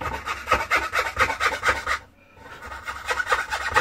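Hand saw cutting through the wooden body of a Vuillaume violin clamped to a bench, a close rhythmic rasp of quick strokes that stops briefly and then resumes.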